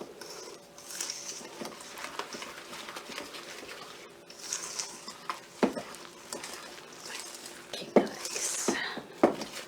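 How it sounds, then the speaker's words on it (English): Brownie batter is stirred in a bowl, giving soft wet scraping and occasional clinks of a utensil against the bowl, faint and irregular, with a voice speaking quietly over it. "we have to make sure that we mix and blend very well"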